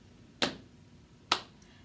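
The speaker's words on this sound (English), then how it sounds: "Tap and clap." Hands tap and clap at the start of a children's circle-time hello song: two quiet, crisp hits spaced roughly a second apart in an otherwise hushed room.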